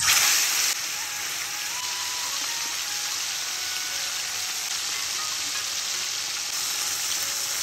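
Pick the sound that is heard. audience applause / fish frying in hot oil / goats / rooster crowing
fish frying in hot oil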